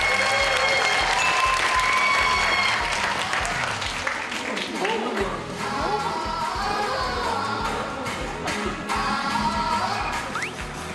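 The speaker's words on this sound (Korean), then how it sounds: "IBK 기업은행 알토스 배구단의 출정식을 힘찬 박수 함께 시작하겠습니다" Applause from the crowd opening the IBK Altos volleyball team's 2025–26 season launch ceremony, steady and dense throughout with music and a loudspeaker voice mixed under it.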